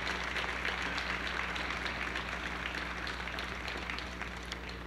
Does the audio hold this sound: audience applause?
yes